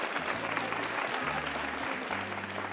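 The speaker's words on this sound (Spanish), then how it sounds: "Un aplauso para Tizón, bien merecido." Studio audience on a Spanish TV game show applauding, a brief steady burst of dense clapping heard fairly faintly, with a low hum underneath.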